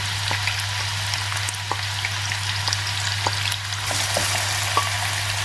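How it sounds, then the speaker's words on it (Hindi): Onions fry over medium heat with tomatoes for liver masala, a dense, continuous sizzle and crackle heard up close, with faint stirring ticks and a steady low hum beneath. "अब इसमें मैं प्याज डाल के इसको लाइट ब्राउन कर लूँगी मीडियम आंच पे"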